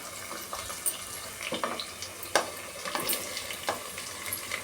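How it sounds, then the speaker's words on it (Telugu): Sliced onions fry in a pan for a chicken fry, giving a steady close sizzle broken by frequent scraping and stirring clicks. "ఉల్లిగడ్డలు వేగాలి."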